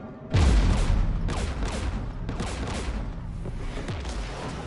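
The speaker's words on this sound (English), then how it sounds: "We're taking fire." Sustained gunfire in Mass Effect Legendary Edition, a sharp heavy blast opening a dense, continuous rattle of shots that stays loud throughout.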